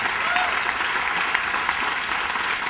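Steady applause from an audience at a lecture or rally on higher education, dense broadband clapping that fills the whole moment at an even level without any speech over it.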